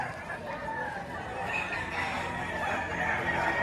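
A bullstag rooster at a Batangas poultry market gives a continuous crowing, clucking call up close, with market noise behind.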